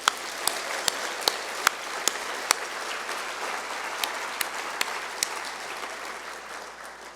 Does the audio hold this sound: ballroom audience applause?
yes